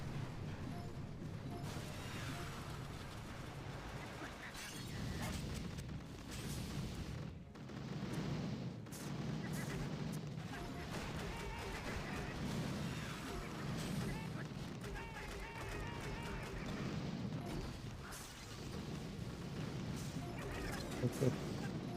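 Artillery shelling and cryo bomb explosions in the mobile strategy game Boom Beach, repeated booms and crashes under continuous game sound effects and a speaking voice throughout.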